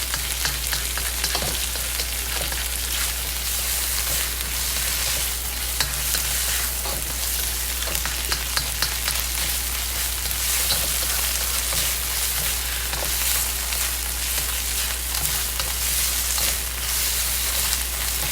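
Onions stir frying in a hot pan for Szechuan green beans, a steady, dense sizzle with stirring scrapes running throughout, close and continuous with no talking.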